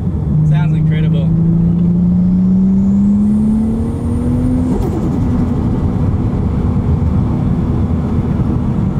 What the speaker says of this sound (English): just that blow-off valve when you let off the gas just goes and goes and goes